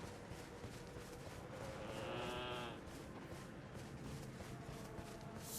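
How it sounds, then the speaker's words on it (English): Goats bleat in Elden Ring: Shadow of the Erdtree, one drawn-out wavering bleat rising clearly in the middle over a constant ambient game rumble, with no talk. "Frickin' madness goats."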